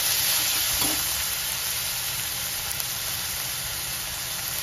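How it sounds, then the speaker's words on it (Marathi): Crushed and grated garlic and ginger sauté in a pan for a spicy matki and potato curry, giving a steady close hiss of frying with a single faint clink of a utensil. "आणि आपण लसूण अद्रक पण असंच क्रश केलेलं आहे, किसून घेतलेलं आहे, ते घालणार आहे मी थोडं"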